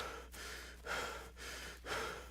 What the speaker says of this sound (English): And all the heavy breathing isn't helping